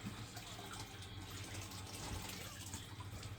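Sweetened condensed milk pours from a can into a bowl for a homemade cheesecake, a soft, steady, faint liquid trickle in a kitchen that continues evenly with no distinct splashes.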